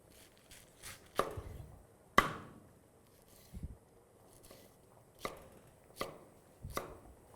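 Salad vegetables such as tomato and pineapple being chopped on a board for a Greek pasta salad, sharp knife strikes at an uneven pace with quiet gaps between them.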